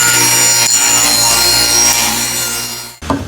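A saw rips a 2.5-inch strip from a wooden board in a steady, loud continuous cut lasting about three seconds, ending abruptly as the blade clears the wood, followed by a brief clatter.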